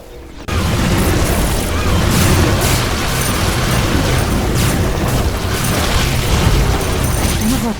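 Dense, continuous roar of explosions and crumbling structures as base buildings and an energy connector are destroyed in The Riftbreaker's fungal forest, loud and unbroken after a brief quiet start, with faint voices under the din.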